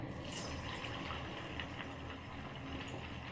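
Vada batter pieces slipped one at a time into hot frying oil, giving a steady, dense sizzle and bubbling that holds evenly throughout with no talk over it.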